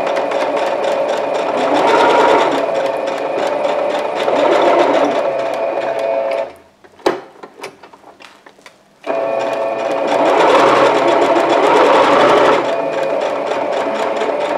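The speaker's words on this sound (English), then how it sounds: "So now we're going to sew the edges down" Domestic sewing machine stitching along the edges of a quilted oven mitt made from fabric strips: two steady, close runs of fast mechanical whirring with a brief quiet pause between them.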